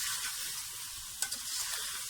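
Potatoes sizzle and hiss in hot oil while being stirred for a spicy potato rice, a quiet, steady crackle with a couple of soft scraping clicks partway through.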